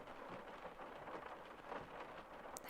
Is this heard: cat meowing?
no